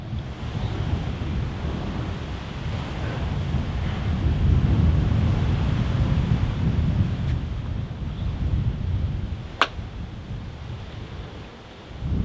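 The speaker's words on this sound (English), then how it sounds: "You can hear the current bashing off the ship from the other side." Ocean surf surging against the hull of the abandoned ship MV Alta on the coast near Cork, Ireland, a deep continuous rushing roar with swells rising and falling, mixed with wind buffeting the microphone and one sharp knock.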